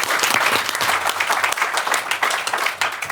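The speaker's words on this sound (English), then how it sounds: "big round of applause" A big round of applause from a tech debate audience, dense continuous clapping, loud and close, with no pauses.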